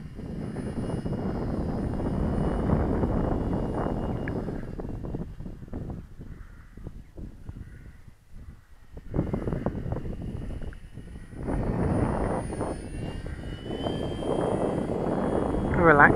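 Balsa-kit RC model airplane flying at about half throttle, its small propeller engine giving a continuous buzzing drone that fades and thins midway as the plane passes farther off, then swells back close and loud, with wind rush.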